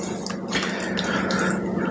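Cream pouring into a pot of fresh tomato soup, a steady close liquid trickle and splash that continues evenly throughout with no talking.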